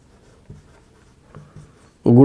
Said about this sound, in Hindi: यही मैं लिख देता हूं